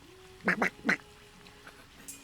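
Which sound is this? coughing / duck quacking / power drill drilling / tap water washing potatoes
duck quacking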